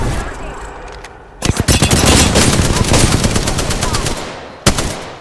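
Rapid automatic gunfire from the video game Apex Legends erupts in dense, loud bursts after a short lull, with a final sharp shot near the end.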